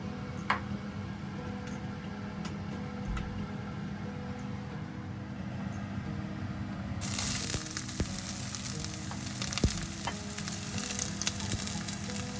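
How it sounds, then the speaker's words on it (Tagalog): Olive oil in a preheated pan gives a steady, soft sizzle that swells into a louder, brighter hiss partway through, with a few light clicks and taps over the frying and no talking. "first, preheat the pan and then add the olive oil"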